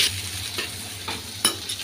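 Sliced onion and chopped green chili fry in oil left from frying lotiya fish, giving a steady close sizzle broken by a few louder stirring scrapes, with no voices.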